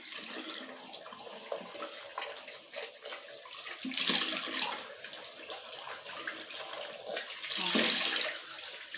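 Tap water runs and splashes while a shoe is scrubbed clean in a sink, a steady hissing flow with two louder surges as the stream hits the shoe, close and without talk.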